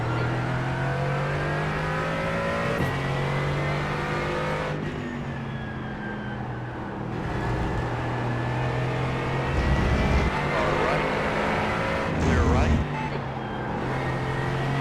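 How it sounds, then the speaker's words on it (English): A race car engine drones loud and steady from the cockpit of a sim racing game at Laguna Seca, with shifts and surges in revving and a faster car closing in. Brief radio chatter is heard under the engine. "there's a faster car bearing down on you"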